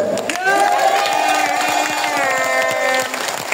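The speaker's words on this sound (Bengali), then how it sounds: "করতালের একটা শব্দ হয়েছে" A rally crowd at a victory procession in Madhupur claps in a dense burst of applause, mixed with loud cheering voices and shouts, steady for a few seconds before tapering off.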